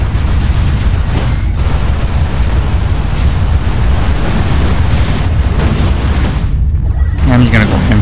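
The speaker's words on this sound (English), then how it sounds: "something's shooting at me really badly" Enemy fire pounds the player's ship in the space combat game Everspace: a steady, dense roar of booming impacts and blasts runs throughout, loud and continuous, with brief dips and a voice speaking over it.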